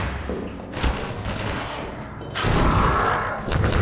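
Bursts of video game gunfire, close and loud, with thudding shots in a dense cluster, a brief lull, then heavier firing resuming toward the end.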